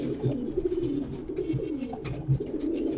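Several racing pigeons coo nearby in low, throaty repeated calls, overlapping softly, with a brief rustle partway through.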